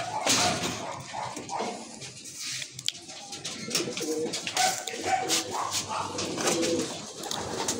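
Pigeons cooing and fluttering nearby, soft repeated coos mixed with wing flaps and shuffling, a busy flock sound throughout.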